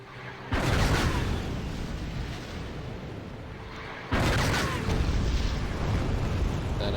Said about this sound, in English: That's more rocket artillery.